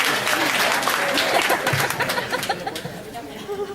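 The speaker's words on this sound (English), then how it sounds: "Another round of applause." A convention panel audience gives a round of applause, loud dense clapping that tapers off into scattered claps, with a few chuckles and murmurs in the crowd.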